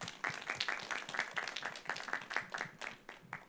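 A modest audience at an art school open house claps for photography and video panelists, a quiet round of separate hand claps in an uneven patter that rises and falls before fading.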